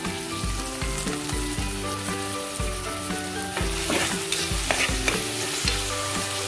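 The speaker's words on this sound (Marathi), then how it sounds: "आणि सगळं परतून घेऊया आपण" Chopped tomatoes and onions sautéed in a pan for matar paneer pulao, a loud close sizzle under repeated rhythmic scraping and stirring strokes of a spoon against the metal, with no talking.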